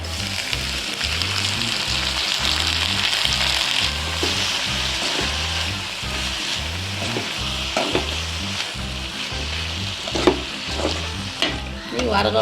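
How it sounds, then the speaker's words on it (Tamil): Dry fish fries with sautéed onion and chili in a pan for karuvattu varuval, a constant close sizzle with rhythmic scraping stir strokes and a few sharper clinks near the end. "வெங்காயம் மிளகாய் வதங்கிருச்சு. இன்னைக்கு கருவாட்டு போட்டுக்கலாம்."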